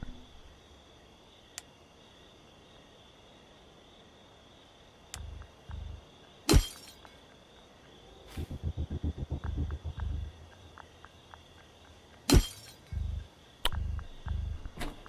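Window glass shatters in the game Thief Simulator with two sharp, bright crashes several seconds apart, over quiet ambience and soft, rhythmic low thumps.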